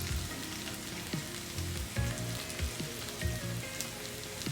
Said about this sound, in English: And let the potatoes fry.